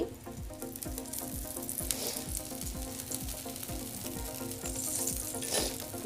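Aloo paratha frying in oil on a hot pan, a steady close sizzle with crackling pops throughout, no voices.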